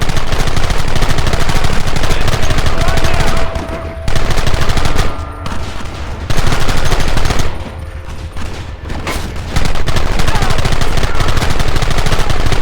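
Rapid gunfire and machine-gun bursts in a Red Dead Redemption shootout mission, loud and dense with a few brief pauses between volleys, no talking.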